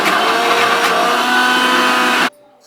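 A kitchen mixer grinder whirs loudly while grinding jaggery and cooked lentils, with a steady high motor drone for about two seconds before it cuts off abruptly into near silence.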